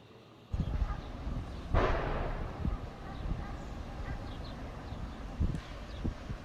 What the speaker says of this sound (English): People then heard explosions, propane tanks that firefighters say kicked off in the heat and flames of this fire.